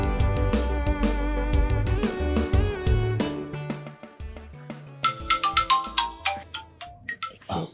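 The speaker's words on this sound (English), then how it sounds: "Oh, your phone?" A mobile phone ringtone plays loud and close as a bright melodic tune with steady repeating notes, turning into sharper chiming plinks toward the end, with no talking over it.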